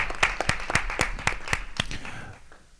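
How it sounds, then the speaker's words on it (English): School board meeting audience applauds the JROTC program on its 25th anniversary, a steady round of sharp claps from a crowd indoors that fades out toward the end. "Let's give them a big round of applause."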